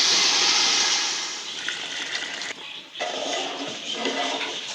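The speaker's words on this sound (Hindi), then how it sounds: "इसमें यखनी डाल रही हूँ" Yakhni broth pours into a cooking pot for beef pulao, a loud continuous gushing rush of liquid that dips briefly midway and then resumes steadily.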